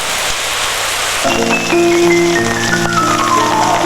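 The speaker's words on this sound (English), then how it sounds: "That night, it rained harder." Heavy rain falls steadily through the night in Lyon, France, making a loud, dense, continuous wash. Sustained tonal sounds join in partway through and run on top of the rain.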